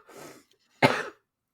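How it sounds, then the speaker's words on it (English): A phlegmy cough, a soft breathy throat sound first, then after a brief pause one loud, close, rough wet cough that fades quickly. "So I got that phlegmy cough now."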